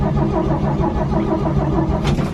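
A Chevy C10 truck engine with a suspected blown motor cranks over and over in a steady, rhythmic churn with the choke pulled, loud and close, without catching.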